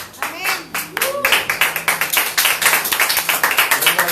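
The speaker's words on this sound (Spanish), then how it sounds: "palmas de alabanza para el que vive" Congregation clapping hands in praise at a Spanish-language church service, starting with a few scattered claps and settling into a fast, steady rhythmic clap, fairly close and loud, with a voice talking faintly underneath.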